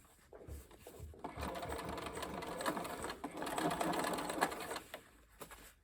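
A sewing machine top stitches close to the seam of a bucket hat, running in a fast steady rattling whir for several seconds after a brief start, then slowing and stopping near the end.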